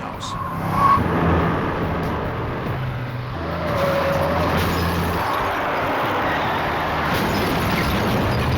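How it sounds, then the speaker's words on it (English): A car rolls toward a house around midnight, a continuous engine rumble and tire roar that swells early and then holds steady at moderate loudness. "he heard the sound of a car scooting towards his house"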